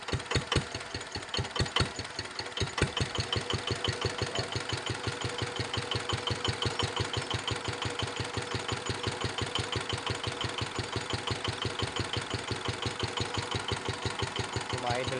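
Yanmar F5C engine idling steadily, a rapid even knocking chug that runs close and loud for the whole stretch after a few uneven beats at the start, with no talk over it.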